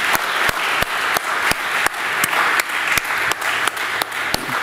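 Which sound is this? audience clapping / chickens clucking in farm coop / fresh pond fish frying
audience clapping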